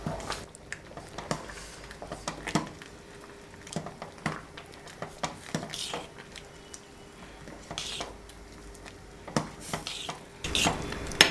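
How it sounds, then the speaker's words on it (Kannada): A spoon stirring vegetable sambar seasoned with salt and homemade sambar powder in a pot, with scattered scraping and clinking knocks against the metal over a quiet simmering background. "ಚೆನ್ನಾಗಿ ಮಿಕ್ಸ್ ಮಾಡ್ಕೊಳ್ಳೋಣ."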